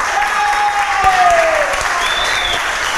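An audience claps steadily in loud, dense applause filling the room, with a few faint whistles and cheers mixed in.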